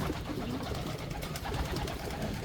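Pigeons coo steadily in a breeder loft in Porac, Pampanga, with low murmuring calls overlapping through a constant soft bed of flock noise.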